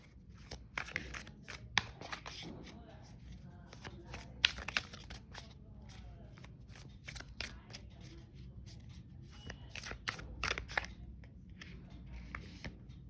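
Tarot cards shuffled for a reading, quiet close riffles and taps coming in irregular bursts with short pauses between them.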